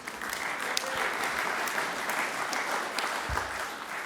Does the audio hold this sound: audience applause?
yes